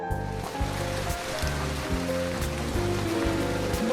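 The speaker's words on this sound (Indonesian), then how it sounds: "Karena malam itu sedang hujan" Steady rain pours during a night scene in a film, a constant wash of hiss heard beneath a low, rhythmic musical score that keeps going throughout.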